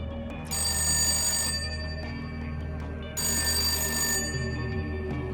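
Two long bursts of an electronic telephone bell ring out in a television news van, loud and close, separated by a short pause and followed by a steady low hum of background noise.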